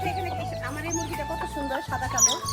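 Desi hens cluck near a mother's home with their seventeen chicks, a steady run of soft clucks and peeps over a low background hum, with people talking close by.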